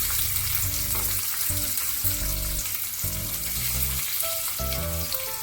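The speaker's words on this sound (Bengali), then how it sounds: "এবার ওই একই তেলের মধ্যে পেঁয়াজ কুচিটা দিয়ে দেব" Chopped onion fries in oil left over from frying potatoes, giving a steady close sizzle under a humming tonal background with a few faint stirring touches.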